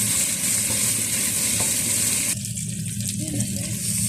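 Onions frying in a pan for chicken biryani, stirred through a loud, steady sizzle with scraping and shuffling, close and continuous, no voices.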